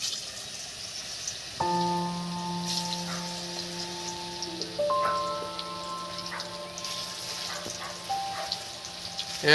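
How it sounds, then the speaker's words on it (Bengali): Potato pakoras dropped one by one into hot oil, a soft continuous crackling sizzle beneath sustained tonal background music, with small pops as pieces go in. "দেখুন আমি পকোড়াগুলো একটা একটা এর মধ্যে ছাড়তে থাকবো"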